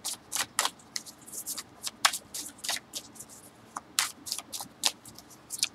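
Tarot cards being shuffled at close range, a rapid run of crisp riffling bursts and soft flicks that come in uneven clusters, with no voices.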